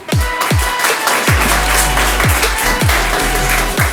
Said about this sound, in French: je vais vous demander un tonnerre d'applaudissements pour les barman d'Henryman Formation